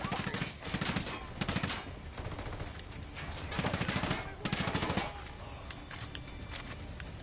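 Troops firing in Ghost Recon Wildlands: bursts of rapid automatic gunfire, rattling fusillades in uneven clusters at moderate distance, with some muffled voices mixed in.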